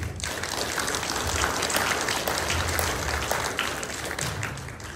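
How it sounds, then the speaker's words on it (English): Audience applause for the staff at a graduate student awards ceremony, a steady, moderately quiet patter of many hands clapping that carries through without a break. "I'd like to give them a round of applause for thanking them for all the work they do for me each year."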